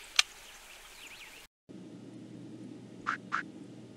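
A short click, then a pause and two quick nasal quacks close together, duck-like and fairly clear over a low background hiss.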